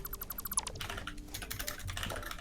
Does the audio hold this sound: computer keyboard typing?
yes